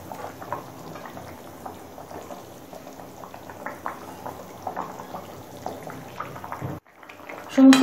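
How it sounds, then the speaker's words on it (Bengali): Tilapia fish curry gravy simmers in a pot, giving a steady soft bubbling and popping that continues alone before a short break and a louder clatter at the end. "এবার ফুল আছে, ঝোলটা কিছুক্ষণ ফুটিয়ে নেব।"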